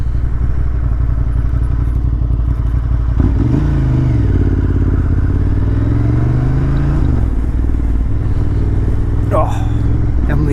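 A motorcycle rides a twisty lakeside road in Idaho on cold tires, its engine a steady loud drone with rising and falling pitch through the bends, wind buffeting throughout and a brief clatter near the end.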